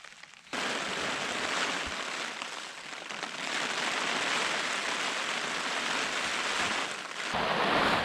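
Heavy rain drums steadily on the fabric of a Wild Country Trisar 2 tent, a dense, continuous hiss that swells slightly partway through and stays close and loud throughout, with no talking.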